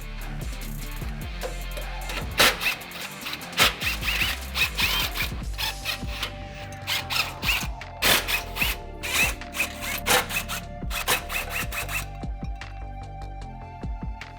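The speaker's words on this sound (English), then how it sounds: "grab that 12mm socket, and we're going to loosen all these up" Ratchet with a 12mm socket loosening skid bar bolts under a Toyota Tacoma, close clicking bursts mixed with metallic clanks and tool handling, with no talk.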